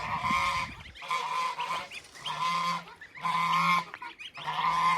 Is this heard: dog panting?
no